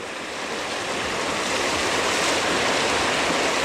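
A large mountain spring pours out water strongly, making a loud, continuous rushing roar that swells slightly and stays steady throughout, with no voices.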